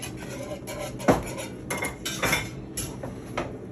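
A utensil stirring salsa in a bowl, a series of close clinks and scrapes of metal against the dish, with one sharp knock near the start and lighter taps after it.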